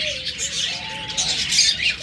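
Pet birds such as lovebirds, cockatiels and budgerigars chirp close by in a bright, continuous chatter of overlapping high tweets lasting about two seconds.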